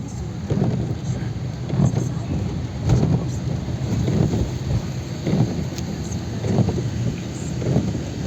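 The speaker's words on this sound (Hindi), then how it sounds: "बारिश।" Rain over Delhi with rolling thunder: a constant wet hiss broken by repeated low rumbles every second or so, fairly loud and close, with a voice briefly speaking over it.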